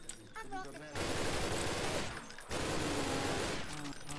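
Dense automatic gunfire in a video game comes in two sustained bursts, each roughly a second and a half long, loud and harsh, separated by a short gap, with someone talking over it.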